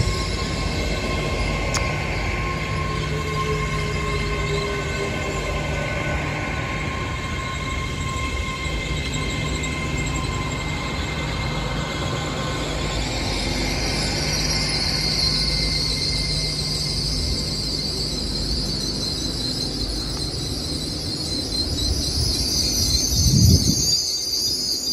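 Class 802 unit 802.005 at Exeter St Davids station, heard as a steady train rumble with hissing brake or air noise that builds in the second half, and a brief loud clunk near the end.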